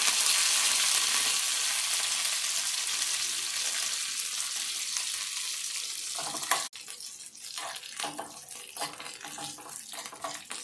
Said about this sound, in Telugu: ఆవాలు ఇవైతే వేగాలి